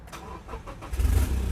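The 2.8-liter engine of a lifted Toyota Revo cab pickup with a manual gearbox runs close by with a deep, rumbling idle that swells into a heavier, louder roar near the end.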